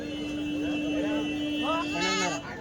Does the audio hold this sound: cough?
no